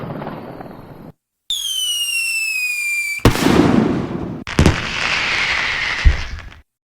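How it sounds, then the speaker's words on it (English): Fireworks at a Bonfire Night display burst in several loud explosive cracks and booms, with crackling fizz and whistling rising tones between blasts, heard alone without talk. "they make bonfires. They have parties and they watch firework displays"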